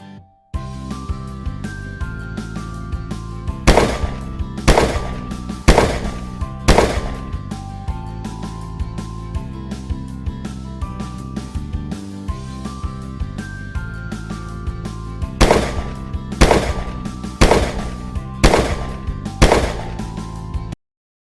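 Gunfire sounds from an augmented reality coding game in which a loop makes the gun fire five times; loud, punchy shot bursts in two clusters play over a steady layer of game music.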